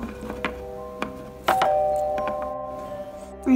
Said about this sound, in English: Yeah, I'll ring the doorbell.